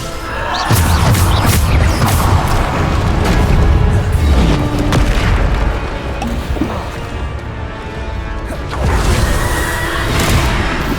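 Bombarda spell explosions in the Hogwarts Legacy video game land as a dense run of loud, heavy booms and crashing impacts, with one burst after another filling most of the stretch before a short lull and a renewed blast near the end.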